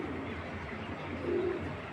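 A pair of racing pigeons, a male and a female, gives a brief, soft, close cooing call that swells slightly near the end against a quiet background.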